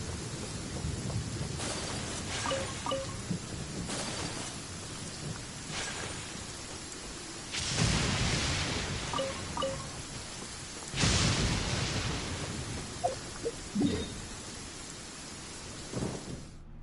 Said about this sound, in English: find shelter from the rain